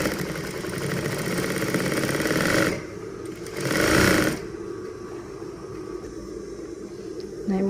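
A sewing machine runs steadily with a continuous mechanical whir, moderately loud and close, rising briefly in the middle before settling back to its even hum.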